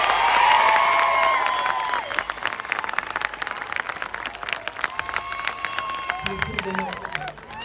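A crowd applauds with steady, dense clapping and some cheering, while a voice talks over the start.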